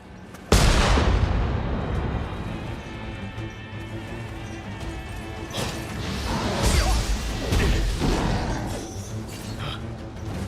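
Cannon fire in the video game Nioh 3 opens with a loud, close blast, followed by crashing impacts, whooshes and several further booms that keep the battle noise dense throughout.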